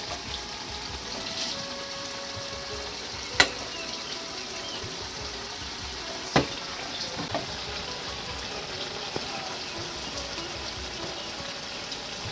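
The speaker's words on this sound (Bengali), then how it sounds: "একটু নাড়াচাড়া দিয়ে দেব আর এখন আমি উপর থেকে পুঁটি মাছগুলোকে লাল শাকের উপরে দিয়ে দেবো" Puti fish and red amaranth leaves fry in a pan with a faint, steady hiss, with two brief clicks of stirring over the continuous sizzle.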